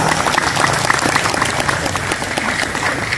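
Audience applause at an anniversary celebration of an Islamic boarding school, Pondok Pesantren Al-Mubarok in Serang: steady, dense clapping from a sizeable crowd, sustained at even loudness throughout.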